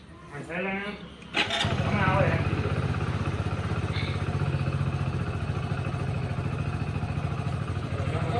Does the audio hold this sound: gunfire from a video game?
no